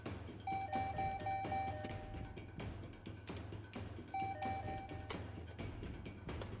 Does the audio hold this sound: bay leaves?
no